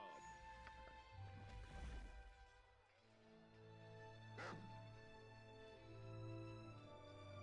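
A dog in the video game Baldur's Gate 3 gives a few soft barks and yips at a well, faint and mixed with game ambience and background music.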